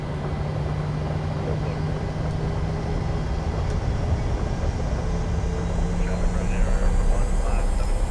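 Airliner engines spool up for takeoff at Leeds Bradford in a flight simulator, with throttles set to about 40%: a loud, continuous roar and rumble with faint rising whine tones that hold steady throughout.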